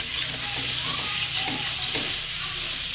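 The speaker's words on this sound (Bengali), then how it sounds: "আলু পেঁয়াজ একসঙ্গে ভাজা হয়ে যাবে" Potatoes and onions frying in a pan with salt and turmeric, a steady soft sizzle with faint stirring scrapes, close and alone.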